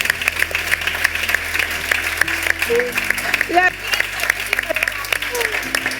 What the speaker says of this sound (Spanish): Pues aplauso para Luis.